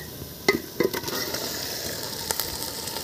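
Chicken meat goes into a pot of softened fried onions with a couple of sharp clanks, then a steady soft sizzle of frying continues underneath.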